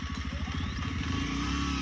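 A Bajaj Pulsar motorcycle engine idles nearby with a rapid, throbbing putter, loud and steady throughout.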